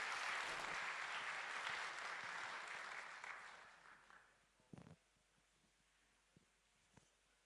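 An audience applauds at a protocol signing ceremony, a loud, dense wash of clapping that fades over several seconds, followed by quieter room sounds and a few faint knocks.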